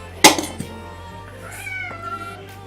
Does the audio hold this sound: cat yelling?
yes